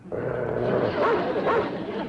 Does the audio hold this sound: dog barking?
yes